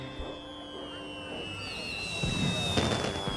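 Fireworks crackle and pop at a carnival in a Thomas-and-friends-style remake, with bursts building toward the end under a sustained whistling tone and faint background music.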